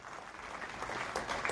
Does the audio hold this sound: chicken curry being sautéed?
no